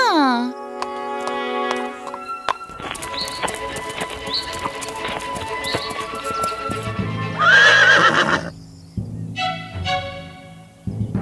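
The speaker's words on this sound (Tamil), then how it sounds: "வா குதிரை போலாம் நம்ம போலாமா" A horse whinnies loudly and hooves clip-clop in a steady rhythm as the rider sets off, with a voice and musical tones in a cartoon fairy tale scene.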